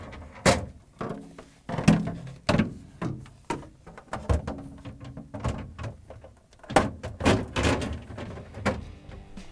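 Plastic refrigerator drawers on a GE fridge slide along their rails and knock into place, a close series of repeated thuds, clacks and scrapes in uneven rhythm.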